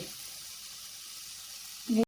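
Onion and capsicum frying in hot oil at home give a soft, steady sizzle that stays low and even, then a brief louder clatter right at the end.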